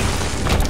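A bomb goes off in The Binding of Isaac, a short, muffled boom with a crunchy smash near the end, heard up close and fairly loud within a busy game mix.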